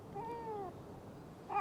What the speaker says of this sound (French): on va aller chercher ton chat dans cet arbre